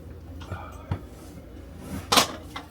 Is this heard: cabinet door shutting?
yes